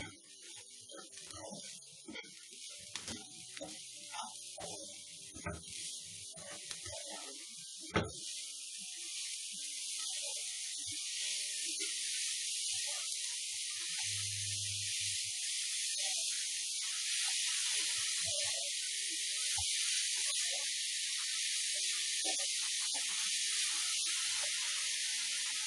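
Carrot halwa being stirred in a pan, a steady sizzling hiss running throughout with scattered scrapes and clicks of the spoon early on, fairly close and alone.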